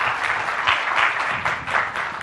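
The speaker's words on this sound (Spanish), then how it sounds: "Les pido un fuerte aplauso para nuestro amigo César que nos acompaña aquí." An auditorium audience at a tech conference talk on development frameworks bursts into dense, sustained applause for the speaker, loud and close with gently rising and falling waves of clapping.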